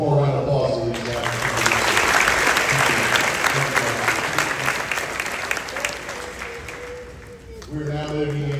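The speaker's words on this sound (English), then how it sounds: "one more round of applause to these guys." Applause at a middle school eighth grade graduation, a steady wash of clapping from the crowd, with a voice speaking over a public address system briefly before and after it.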